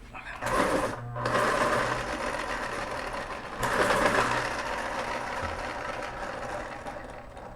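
A pencil turns in a sharpener in two grinding bursts, each a rough, close scraping whir lasting a few seconds, with no talking over it.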